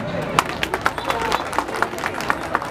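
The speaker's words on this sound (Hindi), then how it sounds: "एक बार अपने गोरखा रेजिमेंट के लिए आपको ताली पीटना" A crowd applauds at a gathering in Birtamod honouring the Gorkha Regiment, sustained claps rising in sharp irregular peaks, blended with a murmur of voices.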